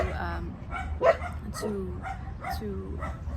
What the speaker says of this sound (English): there the dogs go again.